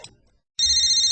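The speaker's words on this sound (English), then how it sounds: "Here's a phone call a pipeline operator never wants to receive." A telephone rings with a loud, steady electronic trill that starts abruptly after a brief silence and continues alone to the end.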